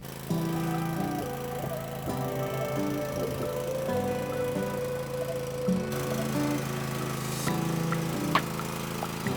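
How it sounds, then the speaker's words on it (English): A small lawnmower engine catches right away and keeps running with a loud, steady mechanical drone and slightly wavering revs throughout, close by, with no voices. "which I'm hoping I can do with my little lawnmower here"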